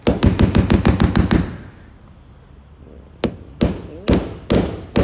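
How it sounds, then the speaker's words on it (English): A rapid run of sharp hammer blows on a Toyota Corolla KE70's car glass, a pause, then several more heavy, separated strikes, loud and close. "What are you doing with the hammer?"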